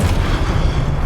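A Confringo spell explosion in Hogwarts Legacy erupts as a deep, loud boom with a rumbling low-end tail that sustains through the short moment.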